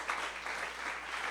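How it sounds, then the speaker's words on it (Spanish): A church congregation applauds for the Lord, a dense, steady wash of clapping that carries evenly through the short moment without any voices standing out. "Fuerte ese aplauso al Señor"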